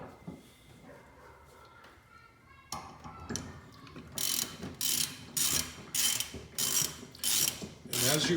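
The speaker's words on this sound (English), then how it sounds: "I'm going to use my half-inch drive and put it through" A half-inch drive ratchet threads a nut while mounting a tire rack on a Gen2 Raptor, giving a series of sharp, bright clicking bursts in a steady rhythm after a quieter stretch of handling noise, loud and close.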